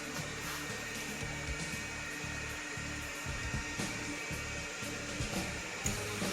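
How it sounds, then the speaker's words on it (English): A 3D printer runs in the background with a continuous whirring fan and stepping motor tones that shift in pitch as it moves, at a moderate level with no talking. "I have a print going on my printer back here, so you guys are going to hear that"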